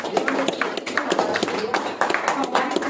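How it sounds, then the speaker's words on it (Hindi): At a sales training seminar, the audience claps loudly for the company's CMD, a busy run of sharp, irregular hand claps under continuous speech. "एक बार जोरदार तालियां बजाएंगे इस कंपनी के सीएमडी सर के लिए, जोरदार तालियां"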